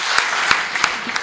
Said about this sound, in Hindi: तालियां भी बजा दीजिएगा